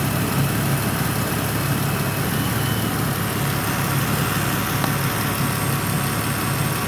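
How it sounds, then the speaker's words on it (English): 2011 Dodge Grand Caravan engine idling with the AC compressor engaged, a steady, loud, close mechanical drone with a constant low hum and broadband whir throughout. "AC compressor is engaged."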